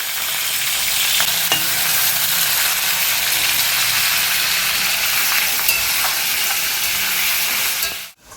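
Onions fry in a pan with a loud, steady hiss and sizzle close by, broken by faint stirring scrapes until the sound cuts off abruptly near the end.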